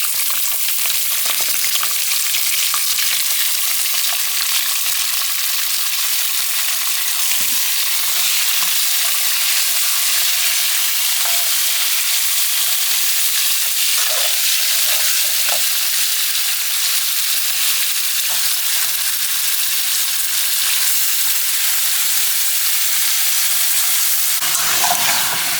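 Chicken pieces fry in a pan for chicken bhuna, giving a loud, steady sizzle that runs throughout, with occasional soft knocks of stirring and no talking.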